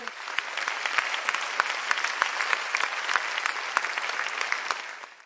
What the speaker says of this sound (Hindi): जोरदार तालियों से स्वागत करती हूँ।